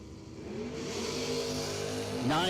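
Two drag cars, a 1993 Mustang and a 1975 Monza Town Coupe, roar down the strip together, the engines building in a loud, rising howl that climbs sharply near the end.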